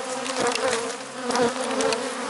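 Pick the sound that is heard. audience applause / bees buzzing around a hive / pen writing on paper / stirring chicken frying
bees buzzing around a hive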